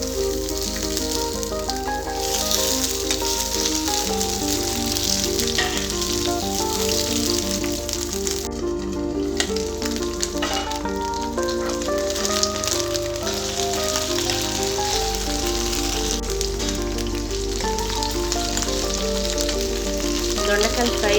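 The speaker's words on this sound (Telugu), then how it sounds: "ఆయిల్ వేడైన తర్వాత దొండకాయలను ఫ్రై చేసుకోవాలి." Ivy gourds (dondakaya) fry in hot oil in a pan, giving a steady, continuous sizzle that runs the whole way through beneath loud background music.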